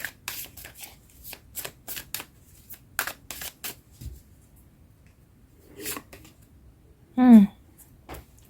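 Tarot cards are shuffled close up in a series of quick crisp riffles and flutters, separated by short pauses, with a brief voice sound near the end.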